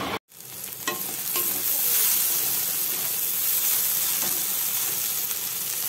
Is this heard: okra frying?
yes